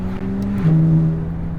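A McLaren 570S engine and exhaust drone steadily with a slightly muffled tone, and one quick gear shift drops the pitch partway through the short burst.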